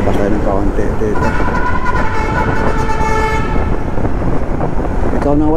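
A vehicle horn sounds in long sustained blasts over loud, steady traffic and engine noise, with a voice talking at times.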